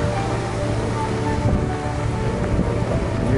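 Ocean surf rolls in steadily at a beachside RV park, a continuous close wash of waves with strong wind rumble across the microphone and no voices.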